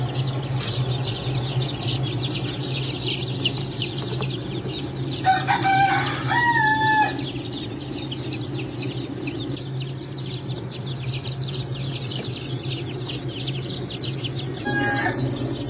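Many high-breed chicks inside an incubator keep up a dense, continuous chorus of shrill peeping, close and loud over a low machine hum, with a few short louder chirps.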